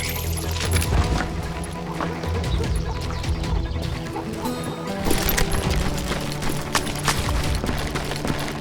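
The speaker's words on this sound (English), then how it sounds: "They're shooting in the street!" Gunfire in a street shootout in the Western game Call of Juarez Gunslinger crackles in rapid, dense volleys with loud bangs mixed into a busy, continuous background of effects.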